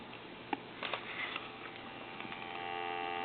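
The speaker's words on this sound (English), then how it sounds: "We have dial tone." A steady, continuous dial tone comes through the line of a repaired AT&T Mickey Mouse telephone. It holds at an even level for several seconds over a faint electrical hum, and no one speaks.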